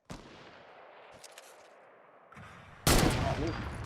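Sniper rifle gunfire in a video game, a sharp loud crack near the end after a quieter stretch of low game ambience and faint distant shots.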